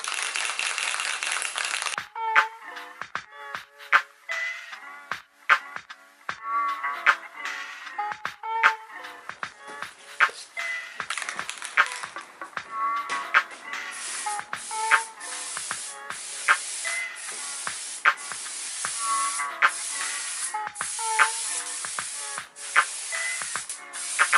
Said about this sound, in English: So let's shake this can up, and we'll get this on the panel.